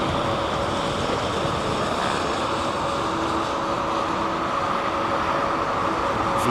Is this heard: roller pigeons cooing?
no